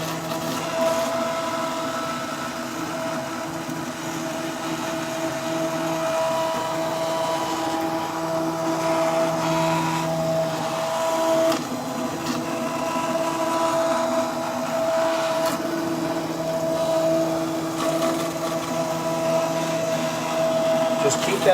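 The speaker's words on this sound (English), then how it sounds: "Let the plunge blender do all the work." Immersion plunge blender held at the bottom of a pot, puréeing hot pumpkin bisque: a loud, steady motor whir with churning liquid that runs the whole time and barely changes.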